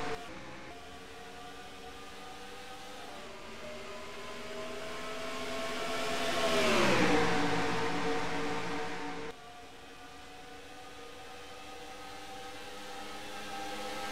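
Stock cars roar around Atlanta in a NASCAR video game race, a steady layered engine drone with one car sweeping closer and louder before dropping away, the field droning on afterward.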